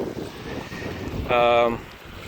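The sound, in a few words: strong wind at the beach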